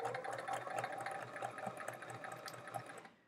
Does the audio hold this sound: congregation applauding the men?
no